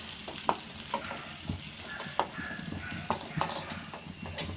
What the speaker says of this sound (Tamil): சிகப்பு நிறமாகும் வரை நல்லா வறுத்துக்கோங்க